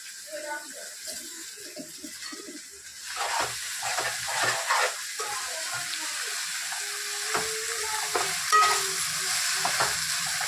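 Ingredients frying and being stirred in a pan for chicken curry, soft sizzling with scraping stirs and intermittent clinks, while a person talks over it in the kitchen.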